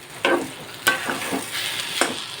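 Ground lentil paste frying in a small amount of oil, soft sizzling broken by four sharp scraping strokes of a spoon stirring the thick paste in the pan.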